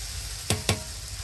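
Boiled dal poured into a pan of sizzling fried spiced masala, two sharp splashy hits over a steady background sizzle, close and fairly quiet.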